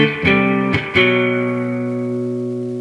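An electric guitar through a Marshall JCM 2000 DSL 50 amplifier with reverb turned all the way up strums a few chords that ring out, each swelling into a long, washy reverb tail that slowly fades; no voices.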